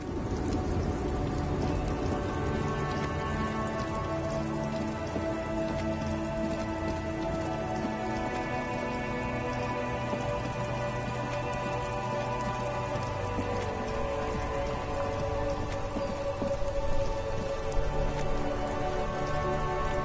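Steady rainfall pattering on surfaces in the video game Disco Elysium, a dense, continuous wash of drops with a low sustained hum beneath, holding at an even level throughout with no voices.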